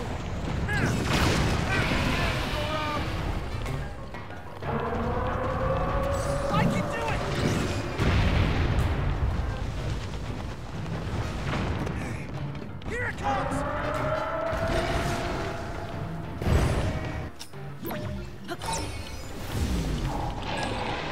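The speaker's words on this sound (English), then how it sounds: "That rock explosion!" Rock explosions in Zelda: Tears of the Kingdom, with heavy rumbling booms and crashing debris surging repeatedly over about twenty seconds, loud and dense, layered with creaking and game effects.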